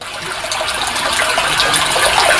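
Stream water rushes and gushes steadily near a large tree, a loud close continuous flow with no voices over it.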